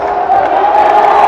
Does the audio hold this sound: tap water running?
no